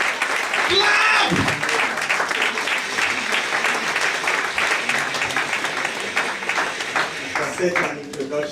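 Loud audience applause fills a book launch hall to welcome a speaker, dense steady clapping throughout with cheering voices mixed in near the start.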